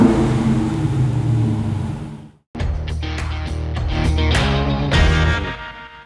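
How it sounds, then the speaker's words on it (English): Dodge Super Bee muscle car exhaust: a loud, deep engine note rises through repeated revs with a brief cut near the middle, then sharp throttle blips and sustained roar. "there's no mistaking the sweet sound of the exhaust as anything other than pure muscle"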